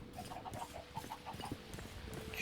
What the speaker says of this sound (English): chickens over here.